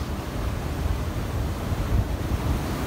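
Sea waves wash steadily onto a beach in Agoo, La Union, Philippines, a continuous broadband surf roar mixed with wind buffeting the microphone, with no voices heard.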